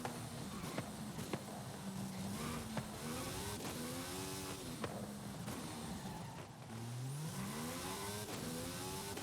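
A race car engine in Forza Horizon 5 on the Eagle Forest Raceway revs up and down through gear changes, rising and falling whines repeating under a steady rumble of tire and track noise.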